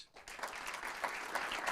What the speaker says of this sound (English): give him a big round of applause, please